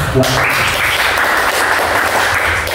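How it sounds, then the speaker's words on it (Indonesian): A classroom of students gives a lively round of applause during a teacher-training lesson at a Catholic school in Semarang: dense, steady clapping that fills the whole moment at close range. "Kalau setuju, kita berikan tepuk tangan yang meriah."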